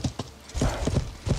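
Horse hooves in the medieval game Life is Feudal clip-clop in a quick uneven rhythm, close and fairly loud, with a brief pause partway through.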